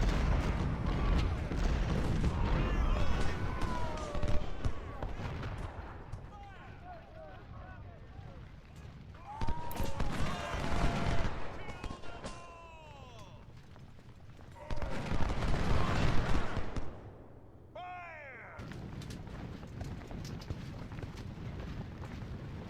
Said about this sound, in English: The 24-pound howitzers have been very effective.